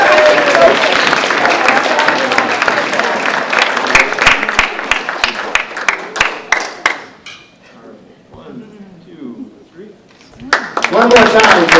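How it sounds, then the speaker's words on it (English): Crowd applause for age group race winners at road race awards, loud sustained clapping that fades to quiet, then swells again near the end. "One more round of applause for all these amazing athletes."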